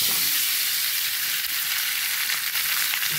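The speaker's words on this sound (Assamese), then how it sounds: "এতিয়া মাংসবোৰ শুকানকৈ অলপ সময় ভাজিম।" Meat frying dry in a pan for a Gahori (pork) pickle, a steady broadband sizzle and hiss running continuously and evenly throughout, close and fairly loud with no voices.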